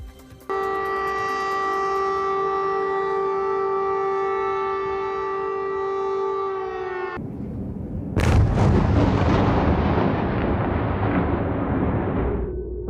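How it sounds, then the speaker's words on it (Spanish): A wartime air raid siren in Ukraine wails in a long steady tone, then cuts off, followed by a heavy explosion whose loud rumble rolls out and fades. "Las sirenas antiaéreas y los bombardeos se escucharon nuevamente por toda Ucrania."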